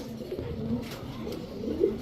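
White racer pigeons kept for sale give a steady low cooing murmur, close and continuous, with a slightly louder coo near the end.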